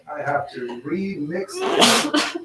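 A single sharp sneeze bursts out close by in a painting studio, following a few seconds of a person talking.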